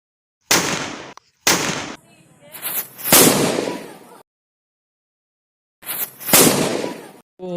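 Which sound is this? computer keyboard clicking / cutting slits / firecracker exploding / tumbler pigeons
firecracker exploding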